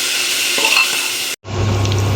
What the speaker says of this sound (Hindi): फ्राई करेंगे, हल्का प्याज को होने देंगे लाल।